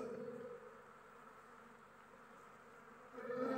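Honeybees raiding weak hives make a faint, steady buzzing drone, swelling slightly at the end, with no voices.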